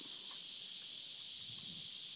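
Cicadas drone outdoors in a dense, unbroken high buzz that fills the whole stretch, loud and constant with faint rustling underneath.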